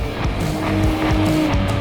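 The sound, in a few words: cars launching in a drag race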